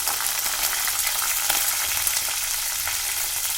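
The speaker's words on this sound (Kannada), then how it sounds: "ಕರಿಬೇವು ಈರುಳ್ಳಿ ಸ್ವಲ್ಪ ಫ್ರೈ ಮಾಡ್ಕೊಳ್ಳೋಣ" Green chillies, curry leaves, onion and lentils frying in a hot pan for hotel-style vegetable upma, giving a steady, close, dense sizzle with faint stirring throughout and no talking.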